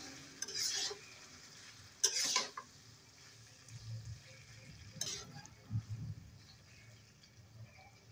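Chicken with cauliflower and kohlrabi is stirred in a pan: a few scattered scraping strokes, with a soft low bubbling and faint sizzle between them, quiet and close.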